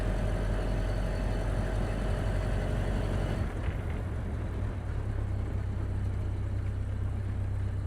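A 1929 Ford Model A Roadster engine drones steadily while driving, a loud low rumble that holds throughout with a slight dip in tone partway through, no talk over it.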